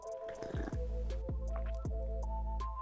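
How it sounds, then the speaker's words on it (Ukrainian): Cold water is poured into hot Earl Grey tea with oat milk. Up close, three distinct gurgling glugs rise over a continuous liquid trickle, with no voices. "Водички ще туди забабахаємо."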